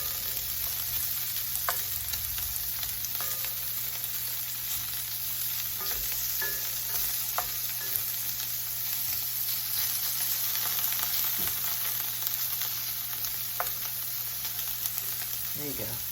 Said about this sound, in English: what I'm doing here is just browning it a little bit